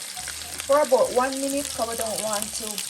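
An ingredient sautés in hot oil in a pan before cabbage is fried, a steady sizzle running throughout while a person talks over it.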